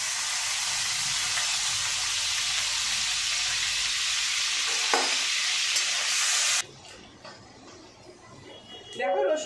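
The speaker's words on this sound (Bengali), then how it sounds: "দেখো রসুনটা ভাজা ভাজা হয়ে গেছে।" Chopped garlic fries in hot oil in a wok, a dense steady sizzle for most of the clip that cuts off sharply near the end, leaving quieter stirring and clatter.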